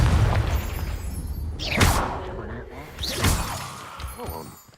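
A Confringo fire spell goes off in the Hogwarts Legacy video game, bursting loudly twice amid a busy layer of game effects and voices.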